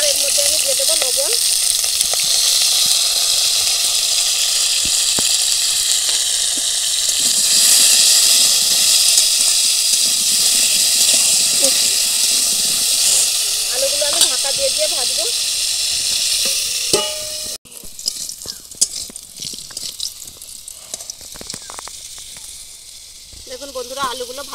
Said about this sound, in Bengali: দেখুন বন্ধুরা আলুগুলো ভাজা হয়ে গেছে